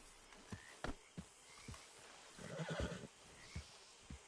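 In the video game Red Dead Redemption 2, a horse whinnies in the middle, surrounded by scattered hoof thuds and clip-clop steps, fairly quiet with a soft ambient backdrop.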